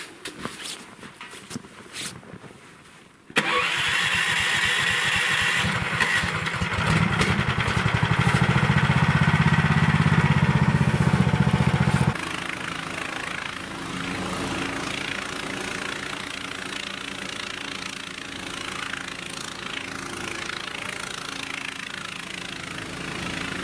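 Engine of a motorized snow towing unit starting up outdoors, a loud burst that settles into a steady, close idle and holds for most of the stretch.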